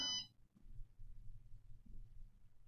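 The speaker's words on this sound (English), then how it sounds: "Let's start the program. After the beep," A single short electronic beep sounds at the start, then fades into a quiet low hum.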